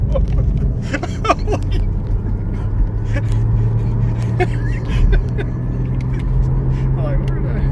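A Porsche drives along a road course with roundabouts, its engine giving a steady low drone with a rising tone, heard from inside the car while people exclaim and talk over it.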